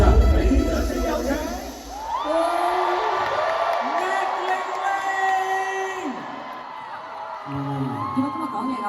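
Large arena audience at a comedy concert in Hong Kong Coliseum whooping, cheering and clapping, a loud, dense crowd roar that swells and holds with shouted voices throughout.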